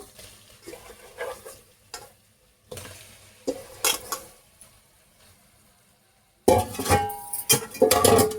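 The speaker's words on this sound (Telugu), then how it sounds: "ఇప్పుడు మనం చాప ముక్కలు వేసుకుందాము" Fish pieces go into a sizzling spice paste for a tangy fish curry, with intermittent clinks and scrapes of a utensil against the pot and quiet gaps, then a louder burst of frying near the end, no speech.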